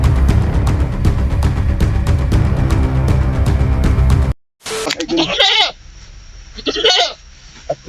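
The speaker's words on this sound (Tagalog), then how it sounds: "At maingay na yung kambing." A goat bleats in a few short, harsh cries after a loud passage of rhythmic music cuts off abruptly; the bleats are near and fairly loud against a quieter background.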